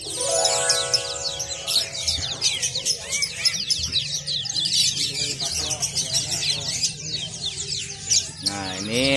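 White-eye (pleci) birds at a bird kiosk chirp and trill continuously in a dense, busy chorus of high twittering calls, fairly close and loud throughout, with a few tinkling notes mixed in.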